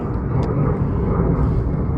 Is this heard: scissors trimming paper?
no